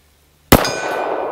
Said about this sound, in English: let's go ahead and start on the rifle range, hit the big gong